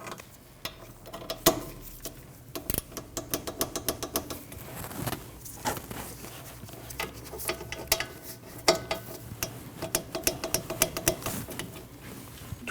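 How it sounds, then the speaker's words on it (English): Bolts on the rear brake assembly of a 2003-2008 Subaru Forester are tightened with a ratcheting tool, a long run of rapid mechanical clicks in quick bursts, close and fairly loud, with no talking. "And torque both of them down to 45 foot-pounds."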